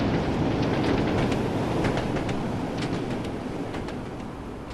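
Train arriving at a platform in the Train Sim World video game on a Northern Trans-Pennine route, a steady loud rumble with faint rail clicks that gradually fades over several seconds.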